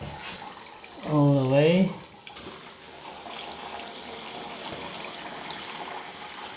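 After a toilet supply valve is opened, water runs in a faint, steady rush that fills the rest of the moment following a short spoken phrase.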